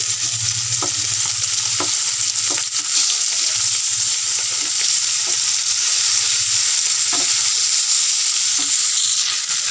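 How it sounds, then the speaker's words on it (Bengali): Turned parshe fish keep frying in hot oil, a dense, steady sizzle up close with scattered light taps and clicks from a utensil against the pan. "এক পিঠ ভাজা হয়ে গেছে, উল্টে দিচ্ছি।"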